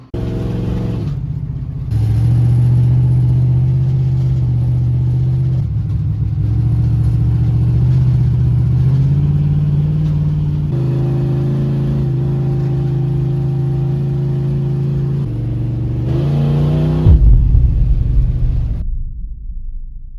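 A 1968 Ford Mustang engine runs and revs while driving, a loud, close rumbling drone with pitch swells as the throttle opens, plus a brief pause and a harder rev near the end.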